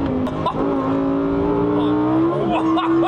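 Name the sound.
Lamborghini Huracan Tecnica engine and exhaust bass on track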